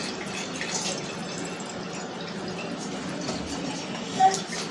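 Distilled water, measured out at 250 ml, trickles and drips into a container for calibrating a digital pH meter. The sound is quiet and close, with a faint tonal blip near the end.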